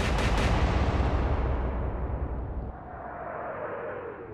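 A battleship's big guns fire in the Atlantic Fleet naval combat game, a heavy booming salvo that rolls out into a long, fading rumble.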